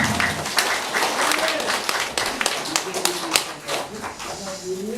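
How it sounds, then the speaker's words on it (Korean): A church congregation at a worship service claps in thanks, a dense patter of hands running throughout while voices talk and call out over it. "우리 하나님 앞에 감사의 박수 드리겠습니다"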